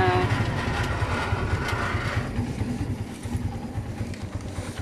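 A motorcycle engine idles and runs nearby with a pulsing low-frequency throb and rough mechanical rumble, steady for several seconds and easing slightly toward the end.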